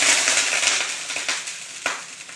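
Water sprinkled onto a hot, oiled iron griddle (tava) sizzles in a broad hiss that fades over a couple of seconds, with small crackles and pops and no voices.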